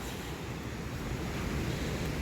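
Floodwater rushing through the grounds of the Sater Drive apartments in Lancaster, Ohio, a steady, loud broadband wash with a low rumble and wind buffeting, continuous and without speech.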